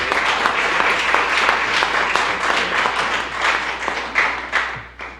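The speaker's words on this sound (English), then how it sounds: "Coach McGomish deserves a round of applause for that honor" An audience at a county freeholders presentation applauds a girls soccer coach named Coach of the Year, a sustained, even wash of many hands clapping for about five seconds before tapering off.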